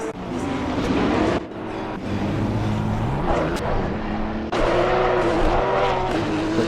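Porsche Cup race cars roll off on a formation lap, a loud dense engine roar with shifting revs, several cars close by and overlapping, with a brief dip and renewed surge.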